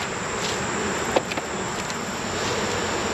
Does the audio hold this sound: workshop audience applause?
no